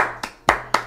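Three crisp hand claps at an even pace, near and clear, heard from an audience, without any voices.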